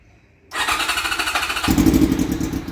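Kawasaki GPZ400 motorcycle with a cut exhaust pipe starts up abruptly and settles into a loud, throaty idle with a pulsing, uneven beat, close by and alone.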